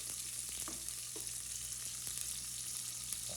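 Garlic sizzles in a frying pan at the start of cooking ginataang tuyo with vegetables, a soft, steady crackle with small pops and faint stirring clicks, and no voices.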